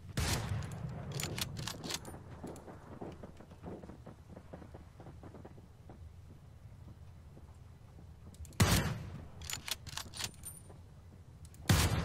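Sniper rifle gunfire from the Ring of Elysium battle royale game: a burst of sharp cracks at the start, quieter scattered reports with wind noise in the middle, then another loud cluster of shots near the end.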